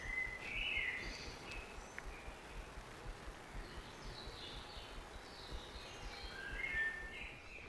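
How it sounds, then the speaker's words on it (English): Faint birdsong chirps and trills drift in from a distance over a soft outdoor hiss, with a few brighter calls near the start and end. "Just listen to that bird song."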